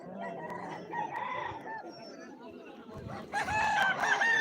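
A chicken at a Shiva Gajan village fair clucks and crows in a short, nearby burst that rises sharply near the end, with crowd noise and a voice talking underneath.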